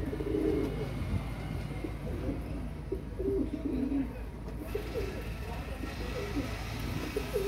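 Pigeons cooing steadily in low repeated phrases, a pair of lakha and green pigeon breeds, fairly faint with a constant background hum and no talk.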